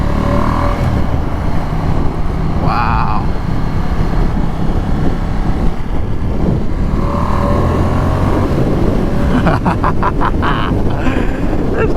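A 2019 Ducati X Diavel S engine drones steadily while riding in a sport mode, a loud close rumble mixed with heavy wind noise, a brief exclamation from the rider partway through.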